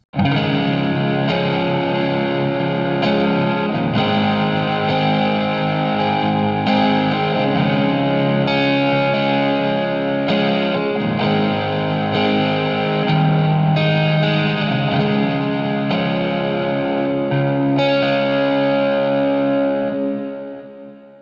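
Electric guitar through a Line 6 Helix playing a song's chorus, steady strummed chords with a shimmering, echoing effect, loud and continuous for about twenty seconds with no voice.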